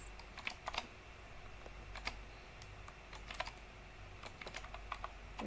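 Computer keyboard typing in bursts of quick, fairly close clicks separated by short pauses, with steady low room hum underneath and no voices.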